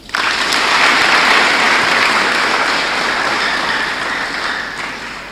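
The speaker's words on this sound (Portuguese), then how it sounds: "Peço uma salva de palmas." Sustained applause from a ceremony audience, most likely honouring police officers passing into reserve. It breaks out sharply, holds loud and dense for several seconds, then thins slightly toward the end, with no voices over it.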